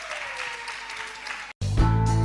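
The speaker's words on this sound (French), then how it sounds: "Encore des acclamations nourries pour nos intervenants." An audience at a national women's leadership conference applauds the panelists, a dense wash of clapping that cuts out abruptly and then switches to a loud, tonal music-like sound.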